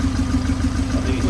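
An old engine revived after twenty years of sitting runs at a steady idle, a low rhythmic exhaust throb with a slightly metallic hum, close and continuous.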